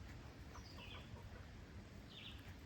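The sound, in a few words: chickens clucking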